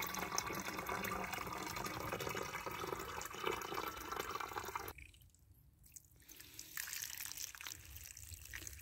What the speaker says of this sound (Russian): Набираем водичку.